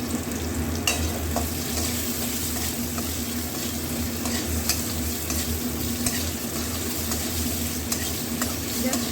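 Potatoes fry in very hot oil in a pan, giving a continuous loud sizzle with scattered clicks and scrapes as they are stirred around; no one speaks.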